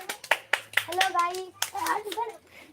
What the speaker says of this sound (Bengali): হাতের তালি দাও সবাই